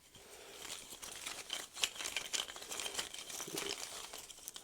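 Cardboard Isle of Skye board game tiles shuffled by hand at close range, a steady rustling, crinkling patter of card against card with small scraping clicks and no talking.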